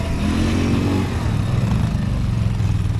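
Small Loncin LX200ATV-U quad bike engine droning steadily and close as it drives through snow in a forest, a continuous loud motor hum with no talk.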